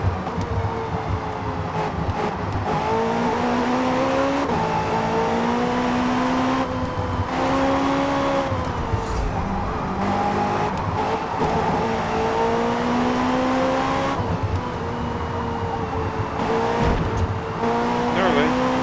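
A race car in Forza Motorsport 5 roars continuously, its engine pitch rising and falling through gear changes as the tires squeal repeatedly through corners, loud and close throughout.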